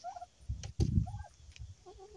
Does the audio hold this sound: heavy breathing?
no